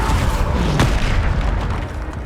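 A single loud magical blast from the Depulso spell in Hogwarts Legacy, a sharp boom with a crack near the middle that sits over dense rumbling combat noise.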